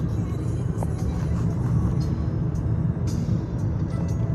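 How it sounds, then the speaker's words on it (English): A Scania OmniLink city bus rumbles nearby with a low, steady engine drone, with faint traffic and brief hissing brake sounds in the background. "there's a Scania OmniLink"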